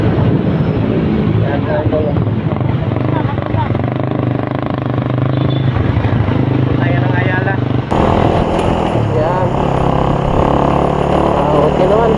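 A motorcycle engine droning steadily while riding through Ayala Business Park in Cebu, with shifting revs and road noise; a voice talks over it at times.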